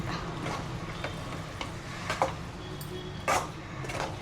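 Moong dal Chettinadu ukkara sweet with cashews cooking in ghee, giving a soft, steady low sizzle with intermittent scraping stir strokes of a spoon in the pan, fairly quiet and close, with no talking.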